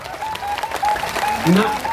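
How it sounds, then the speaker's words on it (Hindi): A large crowd claps at a Jan Suraaj founding convention in Patna, a dense, steady rustle of applause that swells near the end, with voices carrying over it. "एक बार जोर से ताली बजाइए, तो बजाइए जोर से ताली।"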